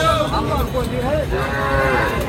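A two-tooth Sahiwal cow gives one long, loud, wavering moo close by at a rural cattle market, with faint crowd murmur underneath.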